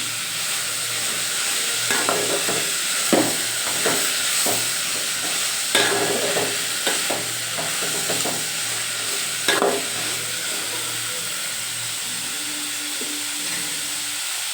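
Vegetables for vegetable pulao cook in a pan, giving a steady sizzle and hiss broken by several clattering stirring knocks of a spoon against the pan, close and fairly loud, with no talking.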